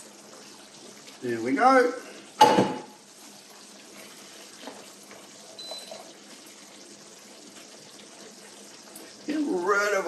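Pasta water pours off into a strainer in a short splashing gush, followed by faint drips and clatter, with someone talking briefly before and after.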